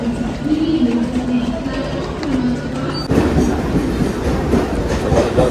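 A Mumbai local train rumbles and clatters at Kurla station, steady and close, with voices talking over the railway noise.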